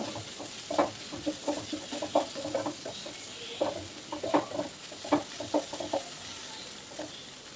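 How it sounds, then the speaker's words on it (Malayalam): Bitter gourd being stirred in a pan with a spatula, a series of soft, irregular scrapes and clatters over a faint low sizzle, close and fairly quiet, with no talking. "നമ്മുടെ കയ്പക്കായ അതൊന്ന് തുറന്ന് നമുക്ക് നല്ലോണം ഇളക്കി കൊടുക്കാം"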